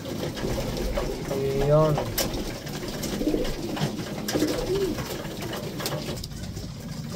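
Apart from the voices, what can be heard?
pigeons cooing at feeding time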